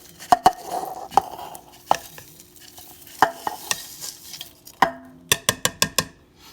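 Dry Pepperidge Farm cornbread stuffing is sprinkled into a crock pot, giving soft dry rustling with scattered sharp clicks and taps of a bag or utensil against the pot, ending in a quick run of close, crisp ticks, with no voices.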